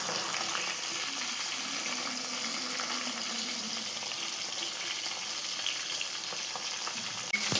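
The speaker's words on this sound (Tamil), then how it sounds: "விரவி வச்ச மீனை போட்டு பொறிச்சு எடுக்கணும்" Marinated fish shallow-frying in a pan, a steady, fairly loud crackling sizzle that runs without a break and stays close and even throughout, with no talk.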